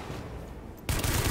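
Gunfire from the video game The Division erupts abruptly after a quieter moment, a loud, dense burst of rapid shots filling the rest of the short clip.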